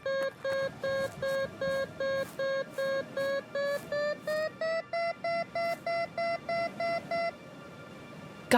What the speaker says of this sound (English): I'll go grab the metal detector off the bike.